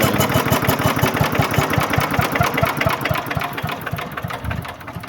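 A chipper shredder engine spins down freely after being shut off, its heavy mass still turning, giving a steady, loud, rapid mechanical chugging that holds its rhythm and fades slightly near the end.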